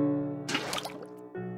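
Water being placed in the video game Minecraft during a quick water clutch, a brief splashing, bubbling burst over a steady tonal game background.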